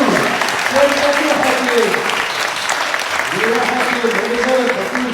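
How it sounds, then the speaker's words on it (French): An audience gives a steady, dense round of applause for Hakim Mazou, continuous crowd clapping throughout while someone speaks over it. "je vous demande de donner l'applaudissement pour Hakim Mazou"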